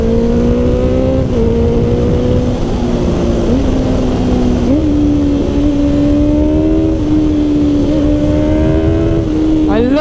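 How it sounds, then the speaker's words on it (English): A Honda CBR650F four-cylinder motorcycle engine holds a loud, close, steady high-rpm drone with small shifts in pitch, then revs up sharply near the end. "love these fucking four-cylinder bikes that you rev them out and you can just get it going and listen to it."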